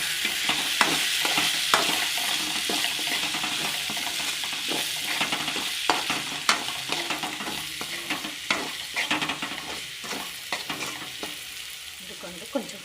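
Spices including coriander powder and sesame powder fry in a pan for potato curry, a continuous crackling sizzle punctuated by rhythmic scraping stirs and occasional clanks of the spatula, close and fairly loud, no speech.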